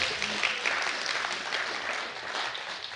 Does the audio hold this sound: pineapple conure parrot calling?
no